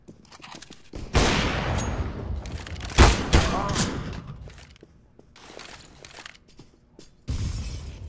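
Sniper rifle fire in the video game CS:GO: a couple of loud, sharp blasts with reverberant tails, followed by busy game noise and footsteps, with voices talking over the action.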